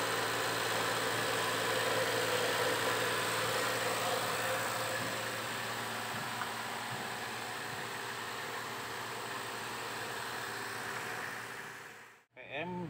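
A Daihatsu Xenia 1.0 car engine holds a steady, raised idle around 2000 rpm during a tune-up, with a constant droning hum and hiss, then cuts out abruptly near the end.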